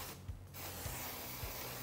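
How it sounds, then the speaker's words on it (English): A steady, loud hiss of contact cleaner aerosol spray, used on a motorcycle or ATV foam air filter part, runs almost continuously at close range, with a short gap near the start. "spray a little contact cleaner on this one"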